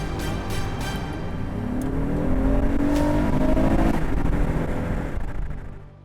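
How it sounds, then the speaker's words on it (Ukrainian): 2018 Acura MDX accelerating, heard from inside as the engine note climbs steadily in pitch under strong road and engine noise, then eases off after a few seconds. "Зараз ви бачите розгін автомобіля"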